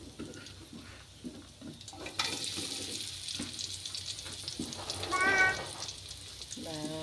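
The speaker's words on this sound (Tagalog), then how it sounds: "Nagigisa ko na po ang sibuyas saka bawang" Onion and garlic sauté in a pan for a vegetable dish, a broad sizzle rising abruptly and holding steady, with a brief cat meow and faint voices in the background.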